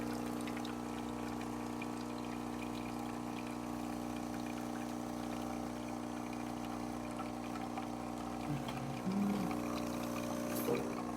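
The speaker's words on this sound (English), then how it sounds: "we have a good water flow coming out of the machine" A steady mechanical hum with a pump-like drone and a faint trickle of liquid underneath, continuous and fairly quiet, as water flows from a Saeco espresso machine.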